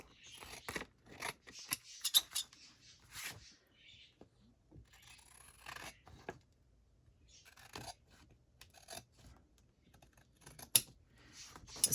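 Scissors trim paper in a crafting project with quick, close snips in irregular clusters, some with a crisp crunch, and faint soft sounds in between.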